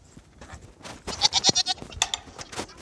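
Several goats bleating on a farm, a quick run of loud nearby bleats followed by a few scattered calls over quiet background, no talking.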